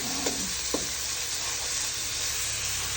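Food sizzles and crackles steadily in a hot pan while sautéing for monggo, a constant frying hiss with a few soft stirring clicks.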